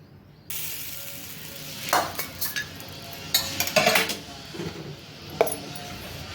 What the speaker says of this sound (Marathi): मस्त अशी फोडणी द्यायची, चरकन आवाज आला पाहिजे